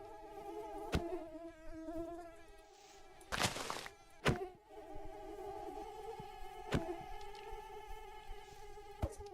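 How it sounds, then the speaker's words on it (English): Swarms of mosquitoes drone in a video game, a thin steady whine under faint sharp clicks and a brief burst of noise, fairly quiet and without speech. "Got so many mosquitoes."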